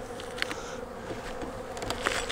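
Honey bees in a hive, reduced in population and clustered low in the box, hum in a steady close drone with brief louder buzzes as individuals fly near.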